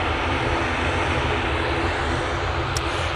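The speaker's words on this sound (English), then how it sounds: "We do have the Virgin Atlantic coming in from Atlanta now." Virgin Atlantic airliner arriving at Manchester Airport after a flight from Atlanta, a steady, loud broadband engine roar held without a break and with no talk over it.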